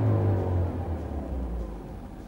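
A Volkswagen Touran's engine sound in classic mode, an acoustically treated note imitating a five-cylinder played through the cabin speakers, comes as a low, steady rumble that eases slightly as it continues.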